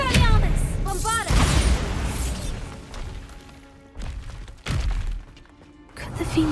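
The Bombarda spell explodes in Hogwarts Legacy amid combat: loud booms and shattering bursts in quick succession, with voices and spell effects layered over the fight.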